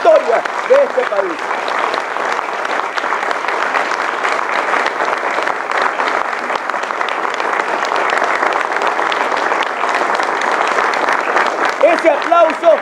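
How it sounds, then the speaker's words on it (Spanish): Steady, dense applause from a large crowd in Venezuela's National Assembly fills the whole stretch, with a few cheers rising near the start and end. "Ese aplauso es para Renzo Prieto."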